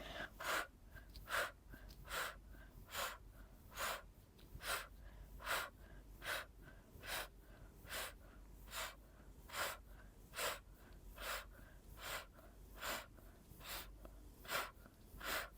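Forceful exhalations during a postnatal recovery workout, about twenty sharp breaths in a steady, even rhythm, close and fairly loud with no talking.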